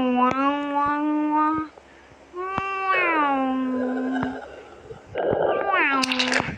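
A voice imitates a cat, drawing out a string of whiny, rising meows, several in a row with brief pauses, close and loud.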